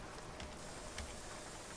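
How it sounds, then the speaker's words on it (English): Rain falls in Seattle in American Truck Simulator, a soft continuous hiss of drops with a couple of faint taps standing out, fairly quiet and alone. "We're up in Seattle, and of course it's raining."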